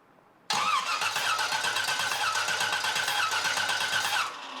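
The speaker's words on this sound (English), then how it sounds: "I disabled the fuel pump or disabled the ignition and turn the engine over" A car engine cranks over with the ignition disabled during a compression test, a steady rhythmic starter churn lasting about four seconds, loud and close, then cutting off.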